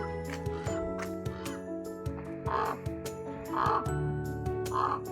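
A pet crow caws three times in slow succession, harsh and fairly close, over a steady indoor hum with a few soft knocks and clicks and no talking.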